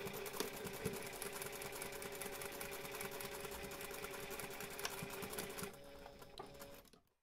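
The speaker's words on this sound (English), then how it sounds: "take this to the machine and sew those two seams" A sewing machine stitches two seams of a fabric toiletry pouch, giving a steady mechanical whirr with a fast, even needle rhythm. It runs continuously, then slows briefly and stops.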